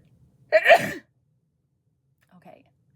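A single close, loud human sneeze bursts out near the start, followed by near silence and a faint breathy sound afterward.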